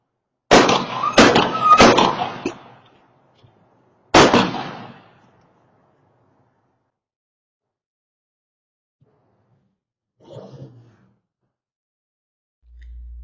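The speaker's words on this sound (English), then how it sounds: "you're about to hear disturbing audio of a woman being shot and killed" Gunshots picked up by a doorbell camera at a yard sale in Tomball, Texas: a rapid cluster of sharp, loud cracks, then a single shot a moment later, followed by long near-silence and one faint distant sound.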